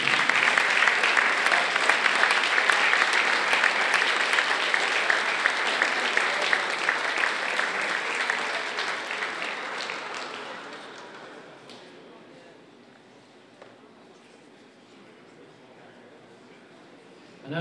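Audience at the 2019 All Ireland Softball Singles men's final presentation applauding runner-up Robbie McCarthy from Westmeath: dense, sustained clapping for about ten seconds, then tapering off to quiet room tone.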